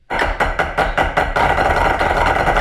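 A full drum line playing rolls together on snare drums, a few sharp accented hits followed by a dense, sustained buzz of rolls, loud and close with no talking.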